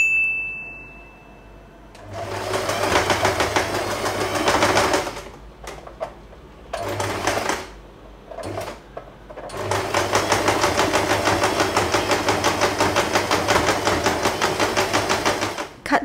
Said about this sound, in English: we are going to sew this part for the last time.